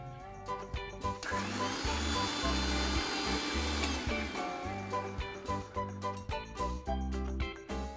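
An electric mixer grinder whirs loudly while coarsely grinding fresh green peas, running in bursts with a steady motor hum and rattling pulses in between.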